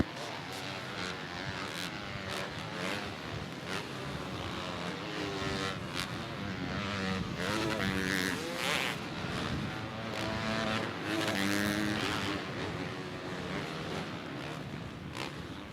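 Motocross bikes racing on a track at the Mammoth Motocross event, led by a Honda rider, with several engines revving and roaring together at a distance, rising and falling under an announcer talking throughout.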